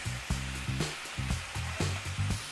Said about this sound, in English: Toss our onions in.